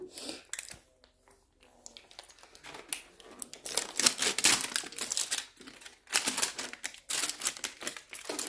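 Duct tape is pulled and pressed on for a baby photo-shoot craft, making close, irregular bursts of crinkly ripping and sticking noises separated by short quiet pauses.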